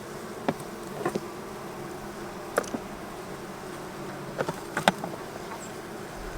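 Honey bees buzz in a steady, close drone around insulated Apimaye hive feeders, with a few brief knocks and clicks breaking through the hum.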